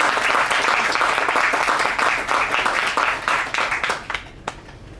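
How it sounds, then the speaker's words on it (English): An audience claps after a Bharatanatyam dance thesis performance. Dense, loud applause fills the room, then thins out and fades over the last second. "a great round of applause for you"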